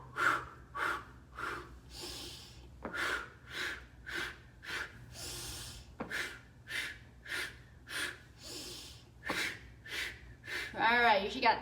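Rhythmic breathing exercise in a Rock Steady Boxing class: a steady series of loud, airy inhales and exhales repeat about once a second, with a faint low hum beneath and a brief voice at the very end.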